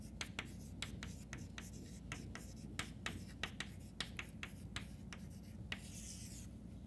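Chalk or pen taps and scratches on a writing surface as a prime factorization is written out, quiet rhythmic strokes and clicks in short bursts with no voice over them.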